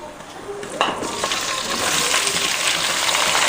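Drumsticks, ivy gourd, okra, carrot, cucumber, tubers and tomato tip into a hot pot of oil for Andhra-style sambar: a quick clatter, then a loud hiss of frying that swells and holds.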